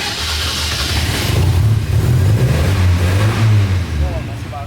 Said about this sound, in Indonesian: show up ke teman-teman bagaimana performa mesin dari mobil ini